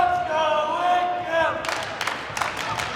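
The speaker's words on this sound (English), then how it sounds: "Oh my God, it's a cheer off." Rival fans at a girls' varsity volleyball match trade cheers in a cheer-off, a sustained crowd chant giving way to rhythmic bursts of shouting and clapping, loud and close.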